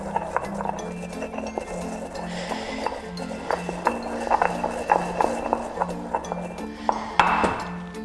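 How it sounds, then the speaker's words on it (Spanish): Coriander and cumin being ground in a stone mortar: a steady run of close, rhythmic clinking and knocking strikes with a pestle, under a person talking. "El cilantro, el comino se muele enseguida en este mortero de piedra."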